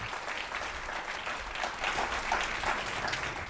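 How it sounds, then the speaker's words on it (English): Applause from an audience for a panel at a talent summit in Ottawa, a continuous wash of clapping at moderate level that holds steady to the end. "So a huge round of applause for our panel here today."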